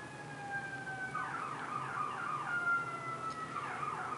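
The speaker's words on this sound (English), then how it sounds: "Ambulances. You gotta hate them." An ambulance siren wails from a distance in rising and falling sweeps, steady and moderately loud, with no voices.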